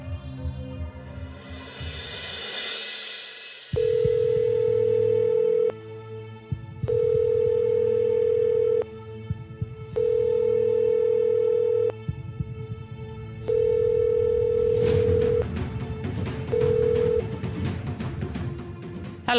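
A mobile phone places an outgoing call, and after a brief swelling noise the ringback tone sounds four times as long, steady beeps with short gaps, followed by a clatter at the end.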